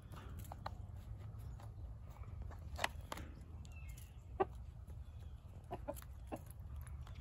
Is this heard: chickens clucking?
yes